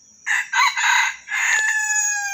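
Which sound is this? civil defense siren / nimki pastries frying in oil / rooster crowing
rooster crowing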